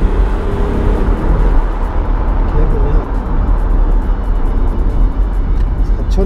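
Hyundai Veracruz six-cylinder engine straining under hard acceleration, a steady loud droning roar that holds near one pitch without climbing.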